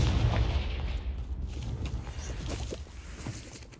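Confringo explosion spell cast in a Harry Potter video game, a loud low booming blast at the start that rumbles and fades, followed by a few softer thuds, with no talk.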